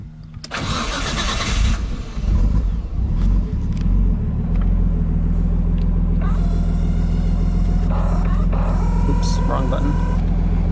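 A Nissan Skyline's engine cranks and catches, then settles into a steady, loud idle rumble close by, with a voice talking over it.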